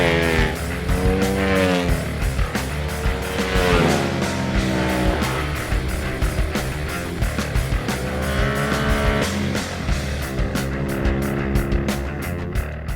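A 2012 Ducati 1199 Panigale S fitted with a full Termignoni racing exhaust, screaming loudly on a race track as it revs up and down through gears, with a rapid stuttering rasp toward the end.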